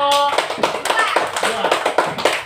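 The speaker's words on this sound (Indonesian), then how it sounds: "tepuk tangan untuk kelompok" Students in a classroom clap for a presenting group, a quick run of uneven, close hand claps that follows a brief spoken cue and continues under light chatter.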